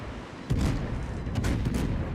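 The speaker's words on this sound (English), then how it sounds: "who's now firing armor piercing at a broadside battleship" Armor-piercing shells from a warship's heavy guns slam into a broadside battleship in World of Warships, a deep booming salvo followed by several sharp blasts over a steady low rumble of battle.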